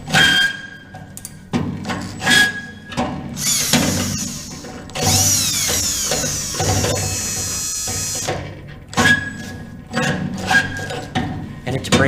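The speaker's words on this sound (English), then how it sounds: "Now I'm going to go with a 1/2 inch drill bit. My goal is not to drill all the way through, but to just weaken the spot welds." A power drill with a brand-new half-inch bit bores into spot welds on a 1969 Dodge Charger during a K-member install. The motor whines loudly in several bursts with short pauses between them, alongside metallic grinding.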